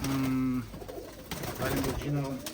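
Domestic pigeons of Semey breeds, some brought from Pavlodar, give low, repeated cooing phrases at the start and again near the end, with people talking in between.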